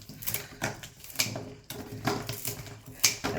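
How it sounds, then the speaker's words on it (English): Snippers cut through tough salal stems for a hand-tied bouquet, giving a run of close, crisp clicks and snaps in an uneven rhythm with rustling of foliage between cuts. "Just gonna snip all this off."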